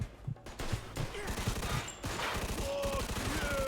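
Rapid bursts of gunfire crackle through a Mafia II firefight, dense overlapping shots, some in quick automatic strings, with loud, steady action all the way through and faint voices mixed in beneath the shooting.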